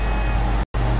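A Karin BeeJay XL driven in the video game GTA 5 gives off a steady, loud engine and road drone that cuts out briefly near the end before resuming.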